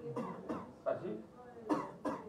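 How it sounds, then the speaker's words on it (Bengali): A person coughs several times in short, sharp bursts during a doctor's examination, a few quick coughs followed by a pause and two more. "কাশি দাও"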